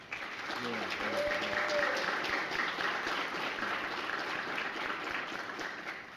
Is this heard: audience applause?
yes